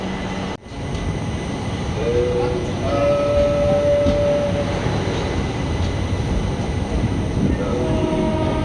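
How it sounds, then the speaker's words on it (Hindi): Indian Railways train pulling out of a station near Bhopal after a green signal, a steady loud rolling rumble with a sustained horn tone partway through, no talk. "तो बस अब ट्रेन यहाँ से भी खुल जाएगी"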